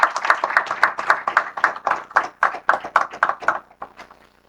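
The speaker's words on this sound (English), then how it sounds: "Please give Sir a huge round of applause." An audience at a sports goods manufacturing hub event claps for a dignitary receiving a memento: rhythmic, fairly close applause with distinct individual claps in a regular pulse, fading out near the end.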